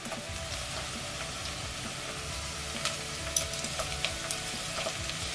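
Curry paste being stir-fried in a pan for a cod fish curry gives a steady, close sizzle, with faint scrapes and clicks from stirring throughout and no voices.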